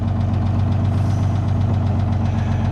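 A small diesel engine in a single-axle yard tractor idles steadily nearby, with a constant low rumble and a rhythmic knocking pulse that runs through the whole stretch without change.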